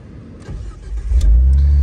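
A Jeep with a manual transmission: its engine hums low and close, then swells into a louder, deeper drone as the clutch is let out and throttle is added.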